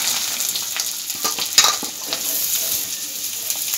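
Chopped onions frying in a pan until reddish, a steady bright sizzle with a few stirring clinks and scrapes, close and continuous without talk.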